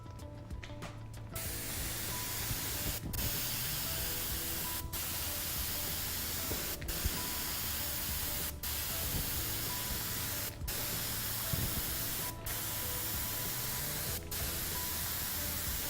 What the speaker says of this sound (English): now we're going to finish the job off with an airbrush